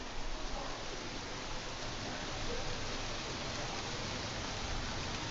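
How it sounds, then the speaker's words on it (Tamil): Heavy rain pours outside, a steady broadband hiss lasting the whole stretch at moderate, even loudness with no voices over it. "செம்மையா மழை பெஞ்சிட்டு இருக்கு வெளியில."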